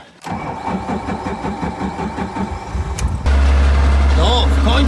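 A Mazda MX-5 NC on an Ecumaster Black ECU cranks with a rapid rhythmic churn for about three seconds, then fires and settles into a loud, steady idle close by, with a voice audible over it.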